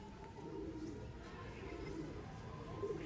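Pigeons in a loft coo softly in low, rolling murmurs, faint and close against a quiet background.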